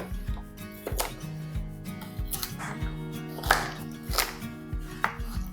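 A knife roughly chops a carrot for stock vegetables on a board, a series of about eight sharp, close knocks in an uneven rhythm, with no talking.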